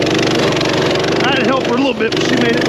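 A small minibike engine straining up a steep hill, a loud, buzzing drone with wavering pitch, while someone talks over it.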